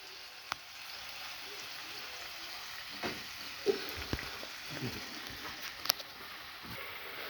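Water boils in a pan for kofta curry, a quiet steady bubbling hiss with scattered small pops and ticks throughout, no talk.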